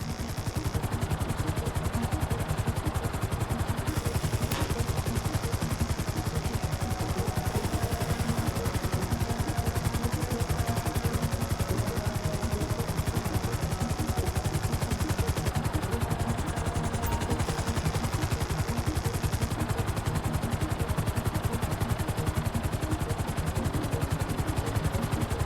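Helicopter hovering in GTA 5, a steady, loud, dense rotor and engine roar filling the whole stretch without letup, with a thin high whine that shifts a few times and no talk over it.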